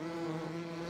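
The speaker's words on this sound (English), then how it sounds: "let's check on our bees before they sting us." Bees buzzing in the farming video game Farming Simulator 17, a steady close drone with a strong low hum and layered overtones, alone without talk.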